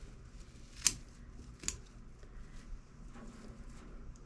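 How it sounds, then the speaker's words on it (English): Two quiet, sharp snips of scissors trimming the ends off fresh herbs in a kitchen, close and brief over a faint background hum. "cut the little ends off like this"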